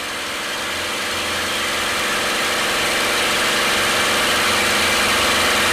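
A P-51 Mustang's piston engine runs up for takeoff, a loud, dense, continuous roar that swells slightly and holds steady at high power.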